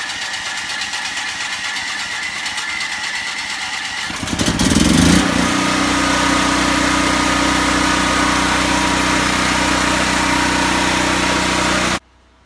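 A portable generator started with choke and start button: a steady electric cranking whir, then the engine catches with a burst and settles into a loud, constant running drone that cuts off abruptly.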